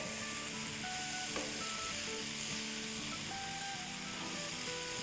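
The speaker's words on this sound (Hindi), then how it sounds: "तो अब गोभी को और चिकन को मिला देते हैं और फ्लेम को लो कर देते हैं।" Cabbage and chicken cooking together in a pan over a low flame, a steady close sizzle with faint stirring scrapes running throughout, no talking.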